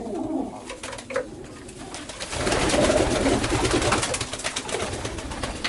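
A pigeon coos repeatedly nearby, soft throaty calls rising and falling over a few seconds, with some background rustling.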